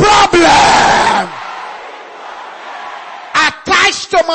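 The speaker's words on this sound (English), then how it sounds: "Everybody will shout this loud and clear. Let your voice be louder than the voice of the person next to you." A church congregation at a sermon shouting a prayer loudly in unison: a forceful burst of voices, a quieter lull of room noise, then more loud shouted bursts toward the end.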